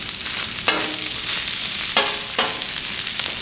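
Thin-sliced Philly cheese steak meat sizzles on a Blackstone griddle, a loud, steady hiss broken by a few quick spatula scrapes, with no one talking.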